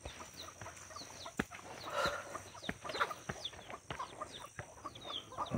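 Chickens cluck softly at a hillside café, in scattered short calls with occasional sharper notes over a quiet outdoor ambience.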